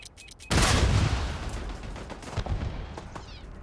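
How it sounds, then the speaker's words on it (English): Mines go off underfoot in the video game Starfield: a sudden loud blast followed by rattling, crackling bursts that fade over a few seconds. "I saw those mines on the ground, but too late to react."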